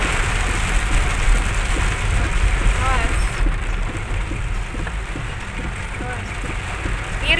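Heavy rain drums on the roof and windows of a moving car, a dense steady wash of noise over low road rumble, with people talking inside the car.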